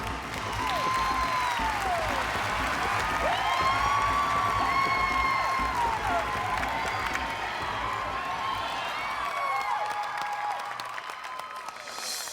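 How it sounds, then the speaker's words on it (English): An audience at a dance competition screams and cheers loudly and continuously, with high whoops and shrieks over crowd roar, fading slightly near the end. "The crowd is screaming, and I don't think that they can hear the beginning of their song."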